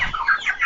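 Broiler chickens in a poultry house in Côte d'Ivoire give a few quick, close clucks in a short burst, with no talking.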